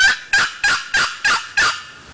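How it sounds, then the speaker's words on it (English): A wooden turkey box call is worked by hand in five evenly spaced, loud scraping yelps with clucks, each a sharp raspy stroke that fades quickly, with no talking. "Yelp, cluck."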